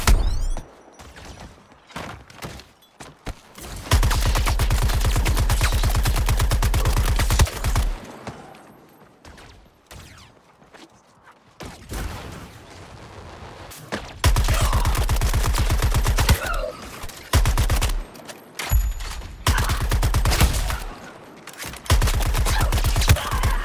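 Rapid gunfire in the Suicide Squad Kill the Justice League video game, with loud sustained automatic bursts separated by brief pauses and quieter gaps. No one speaks.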